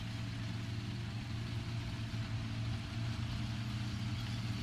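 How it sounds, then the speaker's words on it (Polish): The engine of a Skoda tank in World of Tanks drones steadily for several seconds, a low, even rumble with no talk over it. "Jak widzicie, Skoda nie ma z tym problemu, dosyć szybki silnik."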